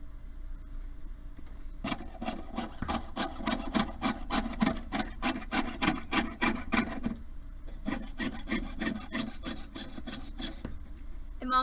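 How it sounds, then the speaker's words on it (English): A hand saw cuts flower shapes, likely in wood, with a close steady rasp of rapid back-and-forth strokes, a brief pause near the start and another around eight seconds before the sawing resumes. "I'm just sawing flowers."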